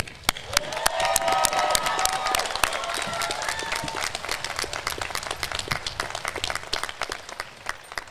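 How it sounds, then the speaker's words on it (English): Families and friends applaud the Klamath Community College class of 2022 at a commencement ceremony, a loud, sustained wash of dense clapping from a large crowd with scattered cheers, steady throughout. "joining me in applauding the Klamath Community College class of 2022"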